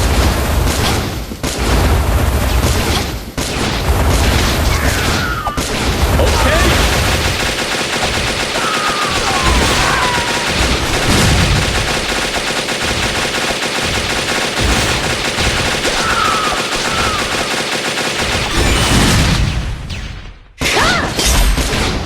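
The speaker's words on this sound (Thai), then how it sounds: "ได้เวลาสาดกระสุน" Sustained heavy gunfire from Metal Slug Awakening, Amir kingdom stages 4-2 to 4-3 with boss Allen O'Neil, a dense, continuous barrage of rapid shots and blasts running almost nonstop before a brief drop near the end.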